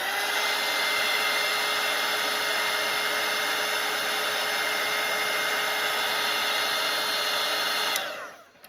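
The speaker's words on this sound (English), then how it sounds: "Okay, I'm gonna dry this." A hair dryer blows steadily up close over a watercolour painting of Santa's face, a continuous even whir that stops abruptly near the end, with no talk.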